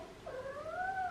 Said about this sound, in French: Si vous entendez miauler, c'est Gizmo.